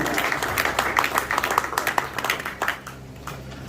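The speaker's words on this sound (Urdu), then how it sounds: "آپ کی تالیاں ہونی چاہیے, بھرپور تالیاں" An audience at an Independence Day gathering in a Pakistani community centre in London claps warmly in a dense burst of applause that fades toward the end.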